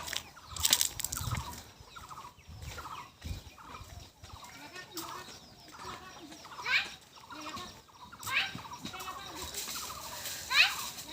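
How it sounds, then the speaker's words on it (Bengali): Chickens squawk and flap in a village courtyard as they are chased around, with bursts of clucking and wing noise rising and falling over several seconds amid light background activity. "মুরগি তাড়াচ্ছে"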